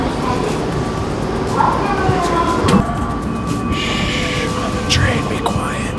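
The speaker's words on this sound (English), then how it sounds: "Train, be quiet." A train running in Japan, a continuous rumbling ride with rail clatter and occasional squeals and tones, heard from inside at close range while voices talk over it.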